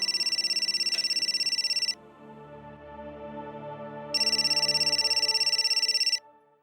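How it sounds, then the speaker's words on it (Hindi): Mobile phone ringtone in a home, a bright repeating electronic trill in two bursts with a tonal musical passage between them. "तेरा फोन बज रहा है"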